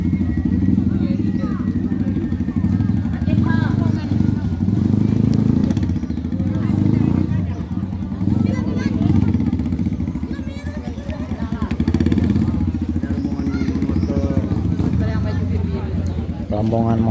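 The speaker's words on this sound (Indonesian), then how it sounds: "Rombongan motor-motor antik ini." A group of antique motorcycles from a palm-oil hauling club in Pasaman rolls in together, a steady dense engine drone with clattering under lively crowd chatter and voices throughout.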